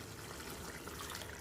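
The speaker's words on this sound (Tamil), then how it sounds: "இப்போ அந்த தண்ணி ஊற்றிடலாங்க." Water is poured into a pot of fish curry, a soft, steady trickling stream heard close but faint, with no voices.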